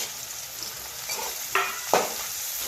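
Curry leaves and peanuts frying in oil for poha make a soft sizzle, with two short, sharp crackling bursts near the end, close by.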